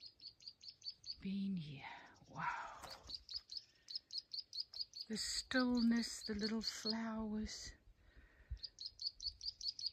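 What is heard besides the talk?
birds chirping in the early morning Karoo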